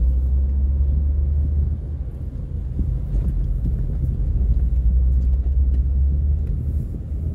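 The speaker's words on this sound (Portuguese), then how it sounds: "de onde vem esse caminhão aí, grande demais" A large truck on a city street in Juazeiro do Norte, Brazil, a heavy low rumble close by that holds steady with wind buffeting, and no voices.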